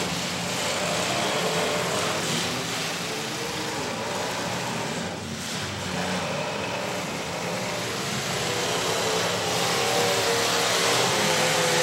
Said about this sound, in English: Could hear that car coming through the pack.